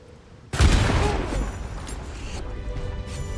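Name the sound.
sniper rifle shots in Baldur's Gate 3 video game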